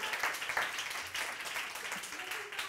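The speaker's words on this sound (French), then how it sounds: "Je voudrais juste qu'on fasse un gros applaudissement pour ça." An audience at a French-language talk applauds, a dense, even patter of many clapping hands sustained from start to finish at moderate volume, with no clear gaps.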